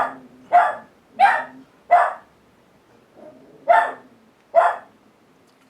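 Dogs bark repeatedly in a steady rhythm, six or so sharp barks spaced about a second apart, fairly close with a faint background hum.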